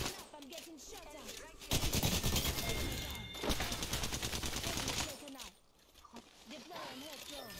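Gunfire in the battle royale game Apex Legends: rapid automatic bursts and overlapping shots, loud and near, that start, rise to a sustained volley mid-clip, then drop off, with game voice lines and player chatter mixed in.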